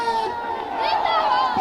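A large crowd of farmers at a mahapanchayat makes a dense murmur of voices close by, with one voice briefly rising above the general babble.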